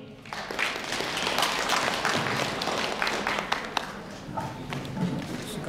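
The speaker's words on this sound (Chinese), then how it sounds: "我们掌声欢迎。" Applause from the audience at a Chinese New Year celebration at a senior center, a steady patter of clapping hands lasting several seconds with some voices mixed in.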